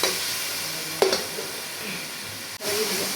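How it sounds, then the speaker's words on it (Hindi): Masala roasting in a kadai with a little water added, giving a steady close sizzle and hiss with a couple of sharp scraping stirs, one near the start and one near the end. "अब भून लेते हैं 4 से 5 मिनट अच्छी तरह"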